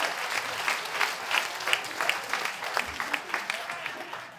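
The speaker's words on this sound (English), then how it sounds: "can we give a round of applause for those people," An audience claps for volunteers at a campaign launch for Wentworth, a lively round of applause with distinct, sharp claps rising over a crowd murmur.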